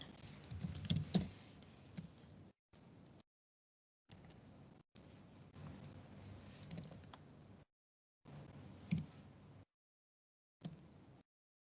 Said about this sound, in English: So in this terminal, we can type in this command.